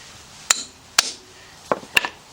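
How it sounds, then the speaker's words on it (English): Four sharp metallic strikes of a hammer hitting a chisel during front strut replacement on a GMC Envoy-type SUV, spaced irregularly and fairly close, with quiet pauses between. "Take our hammer."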